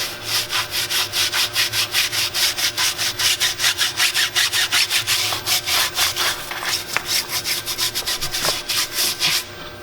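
Wheel brush scrubbing the wheel of a Chevy Camaro 1LE during detailing, rapid rhythmic back-and-forth rubbing strokes, loud and close, with no talk.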